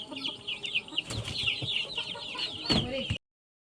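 Young chicks just moved from an incubator peep busily in a coop alongside clucking chickens, high chirps overlapping continuously, nearby and fairly quiet, with a few brief knocks and rustles.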